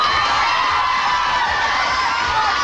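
Studio audience on a 1991 Carmen Sandiego game show cheering a contestant, a loud continuous wash of shouts and whoops from a close crowd.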